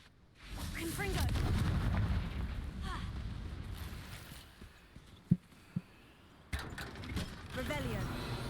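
A Confringo fire spell goes off in Hogwarts Legacy as a rumbling, booming blast that swells and then decays, with sharp crackling impacts and clicks following near the end.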